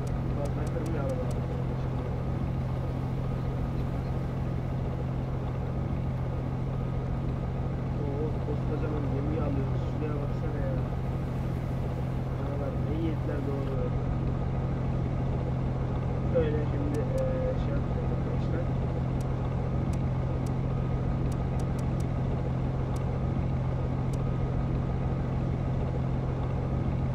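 Tug boat engine in the video game European Ship Simulator, a steady low drone running throughout at even loudness, with people talking over it.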